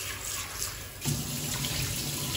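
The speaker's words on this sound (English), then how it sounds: "And then we're gonna put some cold water." Cold water runs from a kitchen tap over drained pasta for chicken carbonara. The stream is steady and close, and its sound grows fuller partway through as the water hits the noodles.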